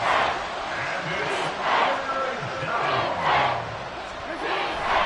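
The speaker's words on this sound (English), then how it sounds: "This crowd turning up the decibel level" A stadium crowd in a Madden football video game roars and cheers loudly and steadily, with swelling waves of noise.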